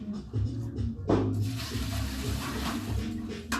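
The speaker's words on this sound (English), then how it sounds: "you hear water because this is what I had it sitting in" Warm water sloshes and splashes in a bucket, a continuous close, moderately loud wet churning with a sharper splash partway through.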